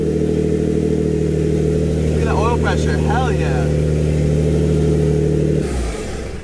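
Fully built Greddy twin-turbo Nissan G35 engine idling loud and steady at close range with brief revs, then dropping away near the end, while someone talks excitedly over it.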